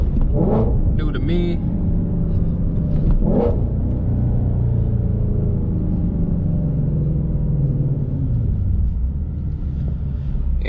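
A 2018 Ford Shelby GT350 droning under load while driving, a steady low engine note with a couple of short rev blips early on, heard from inside the car.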